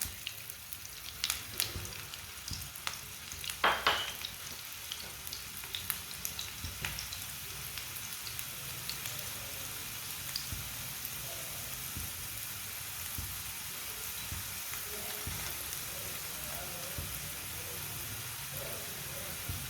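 An aloo paratha fries in oil on a pan with a continuous close sizzle and fine crackling, busier with a few sharper pops early on and then settling to a steady hiss.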